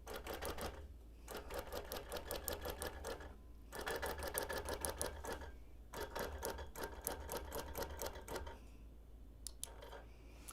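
A sewing machine runs fast, even stitching bursts to sew a basting line around the perimeter of a hexie quilt, stopping briefly between three long runs, close and clear with no talking.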